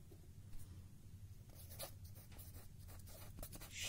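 A pen scratches on paper as an accounting entry is written out, with soft intermittent strokes that are close and quiet over a low hum.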